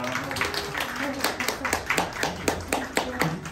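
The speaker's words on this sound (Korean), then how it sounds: "박수 부탁드립니다." An audience at a user conference breaks into applause, scattered claps that build into a steady patter lasting a few seconds.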